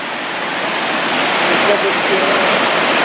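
A waterfall about six metres high, running full after rain, gives a loud, steady, close roar of rushing water with no breaks.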